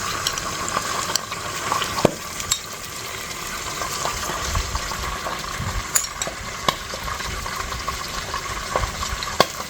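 Large chunks of lamb fry until golden brown, a continuous close sizzle and bubbling with frequent sharp pops and spatter clicks and occasional stirring, no talking.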